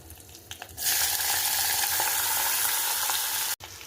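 Asafoetida and mung beans dropped into hot tempering oil set off a loud, steady sizzle that jumps up suddenly and holds evenly until a brief cut near the end.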